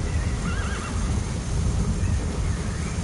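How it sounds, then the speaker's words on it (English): A horse in Metal Gear Solid V: The Phantom Pain, set in Afghanistan, gives a clear, close whinny when called, with faint hoof clip-clop beneath it and no talking. "I might as well call my horse again."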